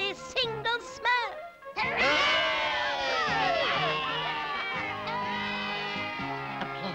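A crowd of cartoon Smurfs cheers and shouts excitedly, voices overlapping in a bright, sustained burst of celebration with tinkling chimes beneath.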